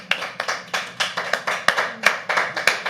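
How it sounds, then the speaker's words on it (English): An audience at a live poetry open mic at The Habitat claps in unison, a steady rhythmic beat of about three claps per second, with no talking. "Clap for me."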